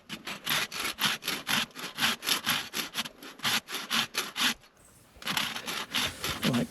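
A new, sharp rasp files a horse's hoof around the frog during shoeing, making rapid, rhythmic scraping strokes close by, with a brief pause before the strokes resume.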